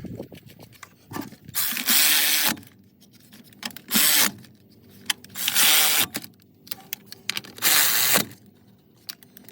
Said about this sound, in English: Now loosen that cable there on the end